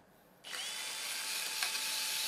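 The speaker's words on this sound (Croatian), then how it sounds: "Evo ovdje ćemo izbušimo rupu." A Bosch GSB 18V-65 cordless drill spins up abruptly and bites into ceramic tile, a loud, steady high whine that holds for a couple of seconds after a brief quiet lead-in.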